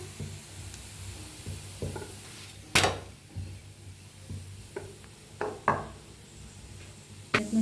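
Beetroot dhapata flatbread roasting on a pan over a lowered gas flame, a faint steady sizzle under scattered knocks and scrapes of a spatula or the bread being turned.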